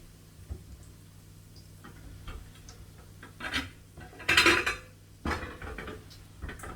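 Dishes and a bowl clink and clatter nearby in a scattered series of knocks, with one busier burst of rattling in the middle.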